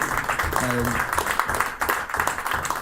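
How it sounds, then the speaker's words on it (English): A crowd at a club event in a factory gives a round of applause, steady clapping from many hands with a brief voice and some chatter mixed in. "So, round of applause for the club for that, please."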